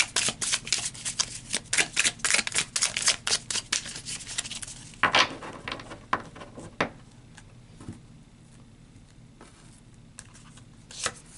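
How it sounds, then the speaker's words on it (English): A tarot deck is shuffled and cards are pulled. Quick, crisp riffling flutters run for several seconds, then fade into softer, sparse card slides and taps. "Let's pull some tarot and see what that adds to these lunar cards"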